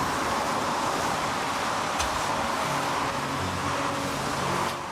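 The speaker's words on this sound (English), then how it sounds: "the whooshing noises of cars driving past us" In a driving video game with a hydrogen-powered car in the rain, a steady rushing roar of passing traffic fills the scene, with one sharper swell near the middle.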